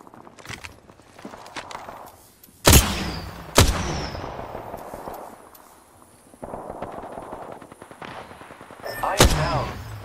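Gunfire in a first-person shooter video game, with a few loud sharp shots standing out over a background of busier combat noise and scattered smaller reports.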